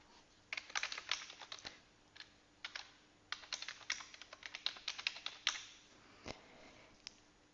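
Email address typed on a computer keyboard: quick bursts of crisp key clicks in uneven runs, close and fairly quiet, with short pauses between groups of keystrokes and no talking.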